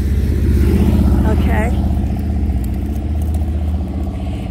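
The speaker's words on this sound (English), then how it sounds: "Once the motorcycles go." Motorcycles rumble past on a Norwich street, a loud, close engine drone with clattering mechanical texture that eases slightly as they move on, while a person speaks briefly.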